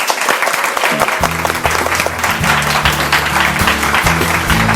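A church congregation applauds as a guest comes forward, a thick steady round of clapping over sustained low organ-like music chords.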